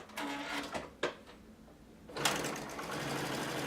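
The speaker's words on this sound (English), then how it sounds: "and you start sewing" A sewing machine starts up on fabric after a few clicks and brief handling noises, then settles into a steady, fast stitching hum to the end.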